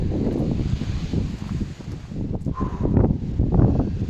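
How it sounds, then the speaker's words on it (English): Wind buffets a camera microphone outdoors on a windy day, a loud low rumbling roar that swells and dips in gusts throughout. "It's a bit windy, I do apologise for any wind noise."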